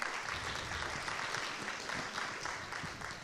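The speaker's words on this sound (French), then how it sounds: "Oui, on peut l'applaudir." An audience applauds after a talk about kelp forests, a continuous, fairly quiet patter of many hands clapping together, steady from start to finish.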